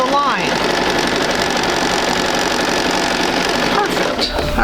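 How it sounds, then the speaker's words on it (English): A sewing machine runs steadily and loudly throughout, stitching a quarter-inch seam on quilt pieces for a basic sampler block, with a slight change in pitch as it slows near the end. "So step 2 is sewing 1/4 inch from either side of the line."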